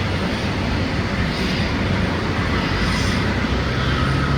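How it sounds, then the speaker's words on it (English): Wide-body airliner being pushed back from an airport gate, a loud continuous engine and ground-equipment roar, steady and close throughout with no voices. "Very nice, a wide body got pushed out of the gate."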